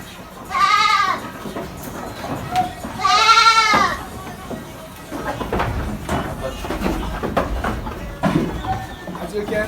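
A large Anglo-Nubian ram bleats twice, loud and close, with long wavering calls, followed by farmyard noise and some talking.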